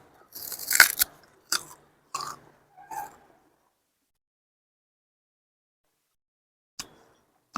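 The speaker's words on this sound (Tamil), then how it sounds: "கரும்பு எப்படி உரிச்சிருக்கோம் பாருங்க இது வந்து இப்போ நம்ம கடிக்க போகிறோம்" Peeled sugarcane is bitten and chewed up close: a run of crunchy bites and chews early on, then a long quiet stretch and one or two short crunches at the end.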